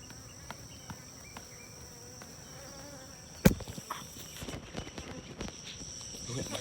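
Honey bees buzz in a steady low drone, with a sharp knock partway through as a hive frame is bumped to shake bees off, followed by a slightly busier hum.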